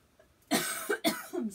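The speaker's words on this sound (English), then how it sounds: "These videos and me coughing." Two quick, harsh coughs in a row, close to the microphone, with nothing else around them.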